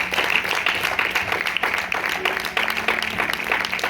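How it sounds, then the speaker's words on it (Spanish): A church congregation applauds together in dense, continuous clapping that stays fairly loud for a few seconds, with a faint hum beneath. "Denle un aplauso al Señor."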